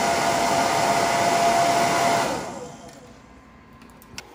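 A DIY VR wind simulator blower runs with a loud, steady rushing whoosh, then spins down and fades to a quiet hum, ending with a small click.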